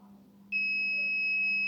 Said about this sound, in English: So buzzer also will come and it will stop in 2 seconds.